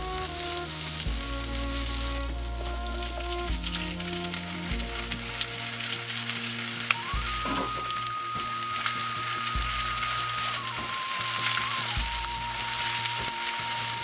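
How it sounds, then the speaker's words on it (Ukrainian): Steady, soft sizzling of onions frying in butter over low heat, close and continuous, with a faint low hum underneath and no talking. "Цибулю смажу на вершковому маслі. Смажу на невеликому вогні."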